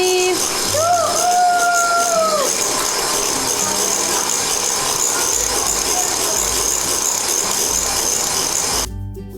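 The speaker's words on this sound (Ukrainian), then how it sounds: "миттєво прямо ось тут починаємо збивати" An electric hand mixer whipping sugar and egg whites for a pavlova gives a steady, loud motor whir with a rising pitch sweep near the start, then cuts off at the end.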